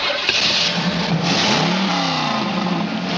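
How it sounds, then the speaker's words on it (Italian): A car engine turning over and revving, a steady mid-pitched roar with rising and falling pitch sweeps that stays loud and close throughout, with no talk over it. "Dai, metti in moto."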